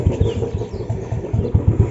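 A motorcycle engine runs at idle in a city street in Jamshedpur, Jharkhand, with a loud, close, steady low putter and regular pulses.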